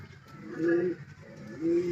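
Racing pigeons being loaded for a derby coo nearby, two soft, low, rolling calls a moment apart over faint background noise.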